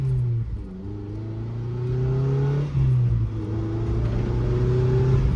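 A 2000 Mazda Miata NB with a freshly replaced clutch driving along, its engine droning steadily from inside the cabin, pitch rising as it accelerates, dipping briefly at a gear change, then climbing again.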